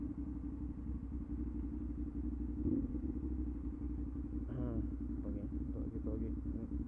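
A Yamaha Mio Soul scooter with an open exhaust pipe on a Manila street, heard as a loud, steady, rumbling engine drone with someone talking over it.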